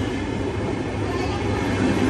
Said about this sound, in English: And this is a big train.